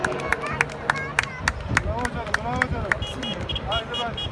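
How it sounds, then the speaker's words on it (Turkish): A crowd at a FIA World Rallycross Championship round in Turkey applauds driver Mert, with sharp, regular claps and cheering running under an announcer's voice. "Alkışlarımız Mert için gelsin."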